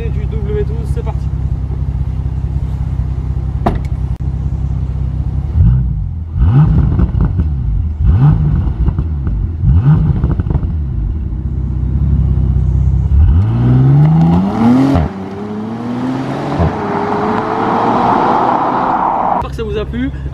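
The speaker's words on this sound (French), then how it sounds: "on va faire un petit test d'accélération, voir un petit peu encore une fois la sonorité du W12" A Bentley Continental GT's W12 engine revs and accelerates, a deep rumble climbing in pitch through several gear pulls, loud and close, with a rising whine near the end as talk continues over it.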